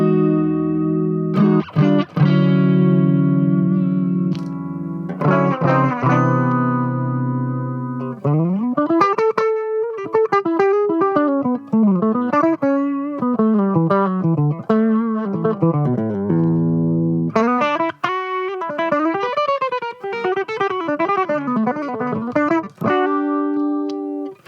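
An electric guitar plays a sequence of chords and single-note runs through a Boss Dual Cube amp, with a shimmering, slightly wavering chorus tone throughout.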